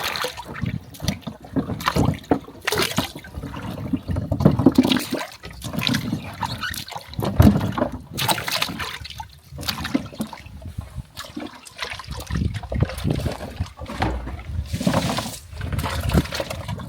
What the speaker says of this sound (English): we are putting the cassava inside this water so that we want to allow it to soft